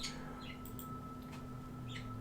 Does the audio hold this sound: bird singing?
yes